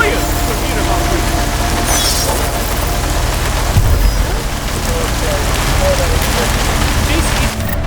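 Steady rain falls in the video game Deus Ex: Mankind Divided, a continuous dense patter on surfaces with a low thud midway and no break throughout.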